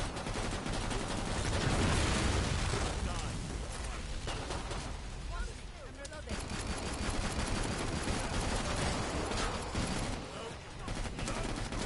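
Dense pistol fire rattles nonstop in Killing Floor 2 as several players shoot at once, a loud, busy mix of overlapping shots with game noise throughout.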